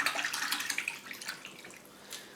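A toothbrush scrubs the parts of a Benchmade Griptilian knife with an axis lock in a bowl of water, giving a close, continuous wet swishing and splashing with brief dripping, and no voices.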